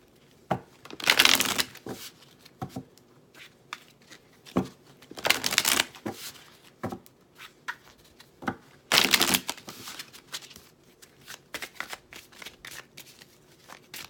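Playing cards being shuffled in several quick riffling bursts, with softer taps and handling noises in between, close and quiet with no talking.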